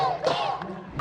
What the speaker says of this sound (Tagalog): Hiyawan ang mga Pinoy na nasa bleachers.